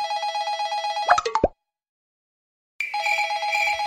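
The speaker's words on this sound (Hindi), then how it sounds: "कॉल आ गई है, किसकी कॉल है बे?" A mobile phone rings with an incoming call in a repeating electronic ringtone, cut by a few knocks, then a pause of silence before the ringtone starts again, loud and close.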